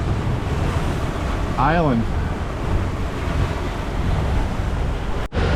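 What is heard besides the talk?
boat pounded by waves on Lake Huron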